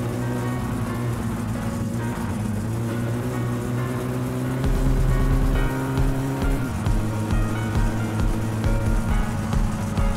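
A rally car engine roars steadily in the My Summer Car video game during a rally second stage, loud and continuous, its pitch shifting partway through as the car changes gear and power.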